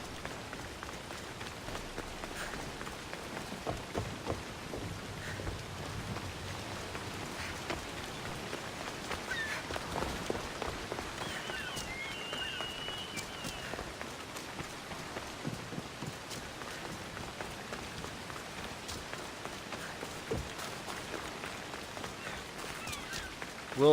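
Steady rain falls over Athens in Assassin's Creed Odyssey, a continuous even hiss of raindrops with faint scattered patter and no voices throughout.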